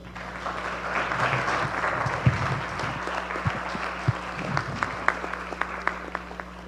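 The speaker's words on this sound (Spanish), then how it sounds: "Recibamos al padre Cristian Ferraro con un fuerte aplauso." Sustained applause from an audience welcoming a priest as speaker at a Catholic lecture fills the room, steady clapping with a few sharper claps standing out near the end.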